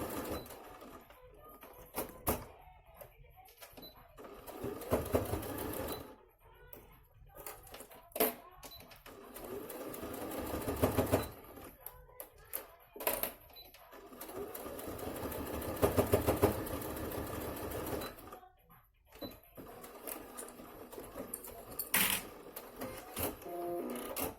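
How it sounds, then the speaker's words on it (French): A sewing machine runs in bursts of fast, rhythmic stitching as it sews a fabric face mask from top to bottom, with short pauses between the runs and no talking. "Alors commencez la couture vraiment du haut jusqu'en bas."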